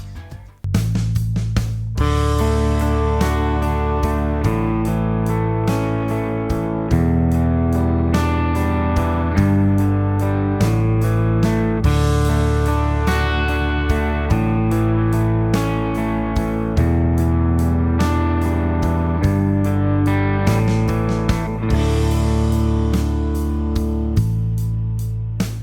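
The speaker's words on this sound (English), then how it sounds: "basic chords with a simple arpeggio" A guitar plays basic chords picked out as a simple, flowing arpeggio, the notes ringing together into a full, sustained wash that continues steadily for the whole stretch, close and unaccompanied with no talking.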